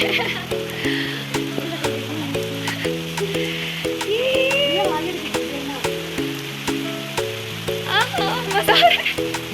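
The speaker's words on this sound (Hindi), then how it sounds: "बहुत तेज बारिश हो रही है" Heavy rain pours down in Devat, a mountain village, as a steady broadband hiss and patter. It runs throughout under louder background music, with scattered brighter splashes near the end.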